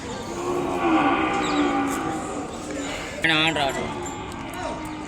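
A low bull moo rises briefly amid a busy outdoor cattle market crowd of voices, with a short, higher, wavering call near the middle.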